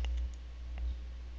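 A computer mouse clicks on a button: two or three small, close, quiet clicks stand out over a steady low hum, with no voice.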